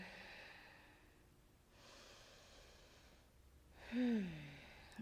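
A slow, deep breath taken during a yoga session, with a long soft inhale and exhale under quiet room tone, ending in a louder, close breath near the end; no speech.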